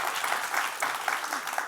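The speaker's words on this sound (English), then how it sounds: "we can have a little round of applause for Gretchen" Audience applause at an event honoring puppy raisers, a steady broadband clapping from a crowd lasting the whole short stretch at moderate volume, with a few louder individual claps standing out.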